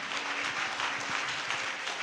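Churchgoers at a Sunday service clap their hands in thanks, a continuous lively patter of many hands with faint voices mixed in, moderately loud and steady.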